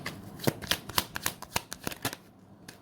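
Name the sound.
shuffling tarot cards to draw one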